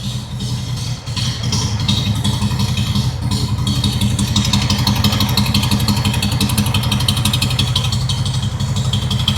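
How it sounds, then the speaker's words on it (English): A 1970 VW Beetle with a 1915cc dual-carburetor engine idling up close: steady, loud, clattery air-cooled rumble with a rapid even beat, a brief dip near the start, no talk. "Fires up fine."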